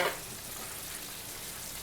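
Center cut pork chops fry in a skillet with a steady, dense sizzle that holds evenly throughout, close and moderately loud, with no talking.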